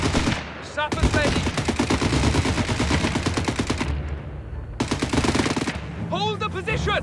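Rapid machine-gun and rifle fire in the World War II strategy game Company of Heroes 3, loud and nearly continuous with a brief lull, shouted voices mixed in under the gunfire.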